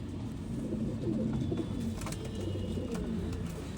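Old line pigeons coo at close range in a loft in Bangalore, soft low repeated cooing phrases over a steady hum, with a few faint higher chirps and no talk.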